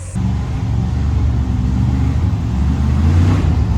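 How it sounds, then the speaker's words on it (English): Off-road Ultra4 race vehicles approach with a throaty engine rumble, a steady, building low growl that swells toward the end as they draw near. "You hear them coming, like the throaty rumble."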